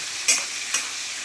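Dried red chillies fry in a pan under a steady sizzle, with two quick scraping stir strokes heard close up; no voices.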